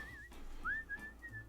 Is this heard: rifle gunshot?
no